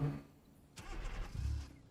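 A car engine in BeamNG.drive stalls and cranks on a snowy village road. A short burst of starter grinding and engine turnover comes through at moderate loudness, then fades.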